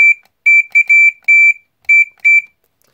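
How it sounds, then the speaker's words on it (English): Entronic Vigilante ES-3 smoke detector sounding its low-pitched piezo alarm in several loud, sharp bursts of tone with short gaps between them, heard up close with no one talking. "Same weird, low-pitched, continuous piezo. And the LED is lit continuously when it's sounding."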